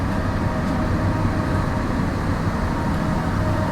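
Mahanagar Express on the Dhaka to Chittagong run on a rainy night: a steady, close rumble and rattle of the moving train that holds at an even level throughout, with no voices.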